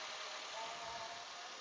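2009 Toyota Avanza engine idling steadily, a faint, even hum heard from close by with no voices.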